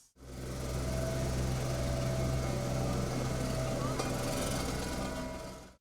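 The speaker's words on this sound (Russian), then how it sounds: "Звук спецтехники не смолкает." Heavy road construction machinery works during major street repairs, a continuous engine drone and rumble with steady vibration lasting several seconds, close and even in level.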